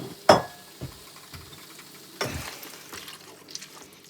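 Liver sears in a frying pan with a soft, crackling sizzle, broken by a sharp clatter at the start and a few scattered pops and scrapes, close and fairly quiet.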